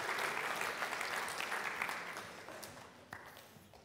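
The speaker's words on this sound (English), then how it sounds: "give Bella a nice big round of applause" An audience applauds after a presentation at a statistics talk, a burst of dense clapping that starts full and gradually thins and fades over a few seconds.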